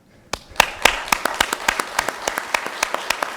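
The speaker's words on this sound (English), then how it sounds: "everybody in this room deserves a round of applause, so let's practice that" Sparse, fairly close hand claps from a small audience at an awards ceremony, a quiet onset followed by a steady run of distinct, evenly spaced claps.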